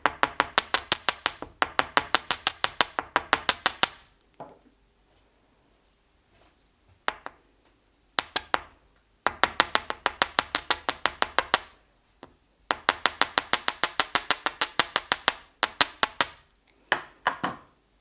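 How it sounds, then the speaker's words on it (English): Metal wire for French earring wires is struck with a small hammer in rapid bursts of light, ringing taps, with short pauses between runs of blows, close and clear. "And now I'm going to hammer it."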